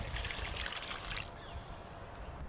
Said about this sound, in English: So we're going to pour some water in.